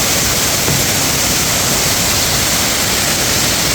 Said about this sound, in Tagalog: So ayan po yung Mantayupan Falls.